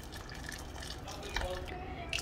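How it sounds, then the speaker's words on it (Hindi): Warm water pours into a pan of pav bhaji, a soft, steady trickling and splashing heard up close, with a few brief clinks toward the end. "थोड़ा सा गर्म पानी ऐड करूँगी क्योंकि ये ठंडा होने के बाद गाढ़ा हो जाएगा।"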